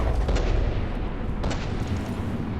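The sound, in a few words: naval gunfire salvo in a warship video game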